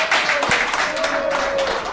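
Members at an alumni meeting applaud as the main speaker is welcomed to the front. The clapping is close and irregular, with a tonal hum and some voices mixed in underneath.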